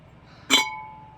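Glass measuring cups and glass juicers clink once as they are handled, a single sharp bright knock with a short ringing decay, close by and alone.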